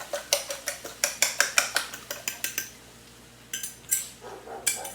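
Egg mixture being stirred for a breakfast burrito, a utensil clinking against a bowl or pan in a quick run of about fifteen close, bright taps, a short pause, then a few more scrapes and knocks.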